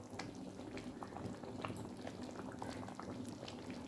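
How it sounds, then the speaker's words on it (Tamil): Rice for country chicken biryani boils in a pot of water, a steady, dense bubbling and simmering throughout. "இப்போ இது நல்லா கொதிச்சு தண்ணி கொஞ்சம் நல்லா வத்தட்டும்"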